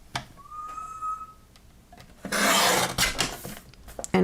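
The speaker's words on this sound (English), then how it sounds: "cut the front of this card off" A paper trimmer blade slides across a folded card base, cutting off the front panel to leave a one-inch flap; a loud rasping cut of about two seconds follows fainter rubbing and handling noises, with a brief scrape at the end.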